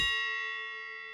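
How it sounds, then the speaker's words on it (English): A bell impact sound effect from the CS:GO level editor in Source: one clear metallic strike with a bright ringing tone that decays smoothly over about a second, heard alone. "If we use bell impact"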